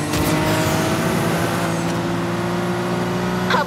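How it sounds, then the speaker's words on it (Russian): Car engine from Need for Speed Heat holding a steady, loud drone with a sustained hum and slight revving, close and alone without talk. "Обожаю звук этого движка"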